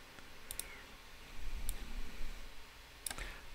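Faint computer mouse clicks while working in Rhino 3D, a few quick double clicks spaced apart over a quiet room hum.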